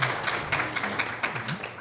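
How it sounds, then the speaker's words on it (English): Crowd at a live women-entrepreneurs podcast event in Boise, Idaho applauds the panelists, a steady, fairly close patter of many hands clapping without pause. "Please, round of applause."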